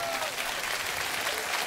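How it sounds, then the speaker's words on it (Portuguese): Concert audience at a live show in Rio de Janeiro breaking into steady, dense applause for Martinha, a continuous wash of clapping with faint crowd noise and some voices mixed in. "Palmas para a Martinha."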